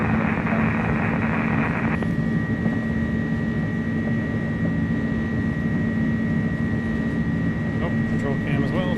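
iniBuilds A300 jet with Pratt & Whitney engines spooling up for takeoff on a UPS cargo flight in Microsoft Flight Simulator: a loud, steady engine roar with a sustained high whine whose tone shifts slightly early on, continuous throughout.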